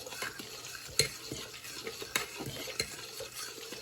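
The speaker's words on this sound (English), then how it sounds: "We're going to mix this up really good." Utensil stirring a thickened sweet and sour sauce mixture in a pan, giving steady scraping and sloshing with a few sharper clinks against the pan and a light sizzle beneath, close and alone.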